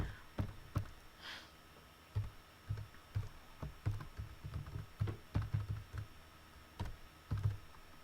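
Crisp, irregular keystrokes on a computer keyboard as an ID number is entered, close by, with short bursts and pauses and no talking.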